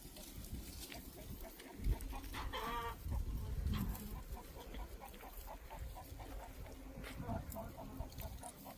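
Chickens cluck in a steady, repeated rhythm against a noisy farmyard background, with a brief louder squawk partway through.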